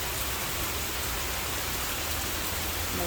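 Heavy rain pours down in a dense, constant hiss, drumming on surfaces nearby with no voices or pauses.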